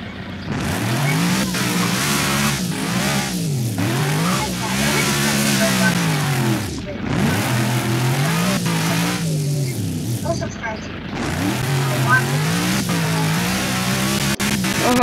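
A car engine in a Roblox racing game drones and revs up and down in repeated sweeps, loud and continuous, with occasional tire noise and a person talking over it.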